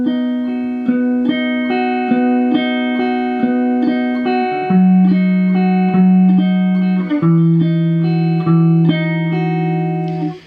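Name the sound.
three-note electric guitar line from a song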